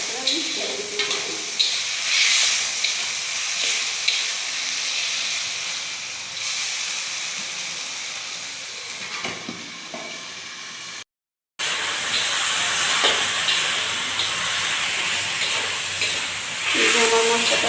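Spices frying in oil in a pan give a steady hiss and sizzle with stirring scrapes, broken by a brief gap before a louder, brighter sizzle resumes.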